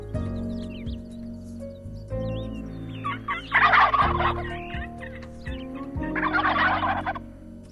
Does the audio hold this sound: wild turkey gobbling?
yes